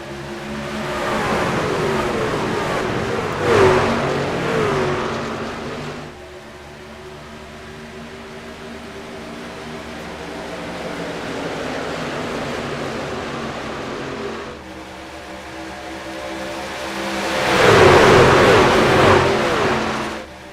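Race trucks roaring around Daytona in the iRacing sim, a steady loud pack drone of engines with two surging peaks as trucks sweep past, no talk over it.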